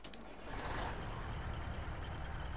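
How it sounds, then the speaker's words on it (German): Truck engine of the Lizard 65032 mod in Farming Simulator 22 starting up, a low rumbling idle with a brief hissing burst at the start, faint and steady with no voices. "So hört der LKW sich hier an."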